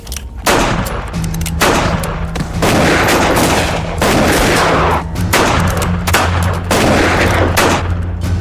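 Guns fire in a western-film shootout, with repeated loud close shots coming in rapid bursts and short pauses, some overlapping into a fusillade.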